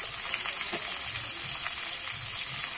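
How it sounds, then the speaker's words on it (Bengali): Pointed gourd fried together with eggplant and other vegetables in oil, a steady close hiss and sizzle with faint stirring movements throughout. "পটল সব সবজিগুলো আমি একসঙ্গে ভেজে নেব"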